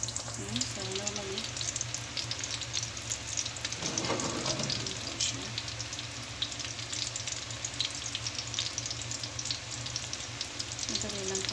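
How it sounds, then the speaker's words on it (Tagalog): Shrimp (alamang) omelet patties, okoy, frying in hot oil, giving a steady crackling sizzle that carries on throughout with small pops and stirs. "Madali lang po siya i-prito."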